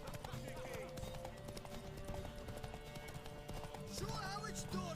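A horse in The Witcher 3 video game, with rhythmic clip-clop hoofbeats running steadily throughout, under a voice talking with game sounds around it.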